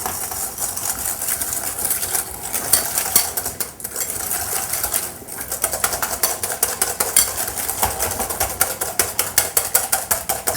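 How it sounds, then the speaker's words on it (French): Whisk beating egg yolks with sugar in a bowl, a fast steady run of rattling, scraping strokes that goes on throughout, with two short pauses near the middle. "on va les fouetter énergiquement pour les faire blanchir."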